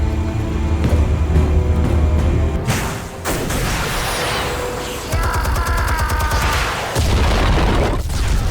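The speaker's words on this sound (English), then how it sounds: "Explosives armed. Fire when ready." Explosives detonate in a Batman video game: heavy booms and crackling blasts follow one another, with rumbling debris and a sharp pop-like burst partway through, loud and close.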